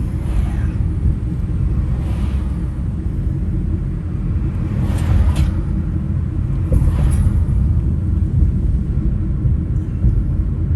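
A diesel vehicle engine rumbles loudly and steadily throughout, with low droning swells as traffic goes by during a cruising drive in Vermont, no talk over it.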